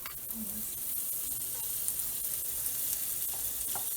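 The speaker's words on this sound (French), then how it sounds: "Je vais les préparer à la poêle. Je vais les caraméliser. Donc, je mets du beurre." Quinces caramelizing in butter in a frying pan give off a steady, close sizzle and crackle, with a few light stirring clicks and no voices.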